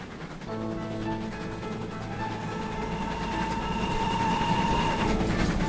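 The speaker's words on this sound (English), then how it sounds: "Today I bring you the Great Western Railway 462 number 111 The Great Bear, brought to Train Simulator" Great Western Railway 4-6-2 steam locomotive number 111 The Great Bear running in Train Simulator, a steady rolling rumble with tonal whine rising and building over several seconds, no talking.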